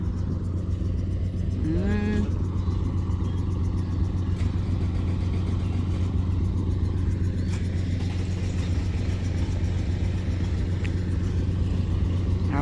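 A vehicle engine pulling a stuck car, with a loader brought in to help. It makes a steady loud low rumble that drones throughout, with a brief rising whine near the start and no talk.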